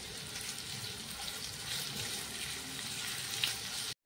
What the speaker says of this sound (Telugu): ఇందులో కొంచెం ఆయిల్లో ఈ విధంగా చికెన్ని కుక్ చేసుకుంటున్నాను.